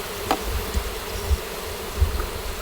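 Honey bees buzz steadily around a honeycomb full of honey as it is harvested and brushed clear, with a few soft low thumps beneath the hum and no voices.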